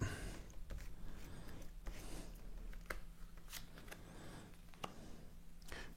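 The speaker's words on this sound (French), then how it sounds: "On va prendre également une autre carte." Playing cards slid and drawn one by one from a deck, giving a series of soft, close papery flicks and snaps over a quiet, low hum.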